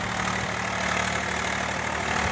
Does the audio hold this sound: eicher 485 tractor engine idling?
yes